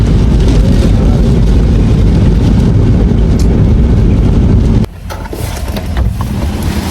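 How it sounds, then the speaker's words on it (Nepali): Heavy rain pours loudly, a dense, roaring wash of noise that drops abruptly to a quieter but still steady downpour near the end. "यति ठुलो पानी परेको छ है, यति ठुलो"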